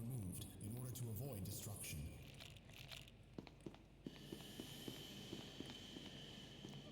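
Small metallic clinks and chinks of coins scatter irregularly in SCP: Secret Laboratory, several sharp tinkling hits over a game-like background, with a voice talking at the start.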